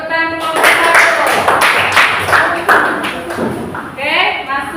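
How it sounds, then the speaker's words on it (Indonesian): A group of people clap in applause for a presenting group during a teacher training session at Universitas Negeri Padang, steady dense clapping lasting several seconds with voices mixed in and a brief tonal sound near the end. "tepuk tangan untuk kelompok 1"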